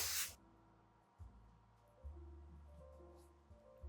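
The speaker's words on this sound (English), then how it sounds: "you have magic spray, which is compressed cold air, which will set the chocolate instantly" A short, forceful burst of hissing compressed cold-air spray, used to set chocolate on a dessert, right at the start, then quiet low rumbling room noise.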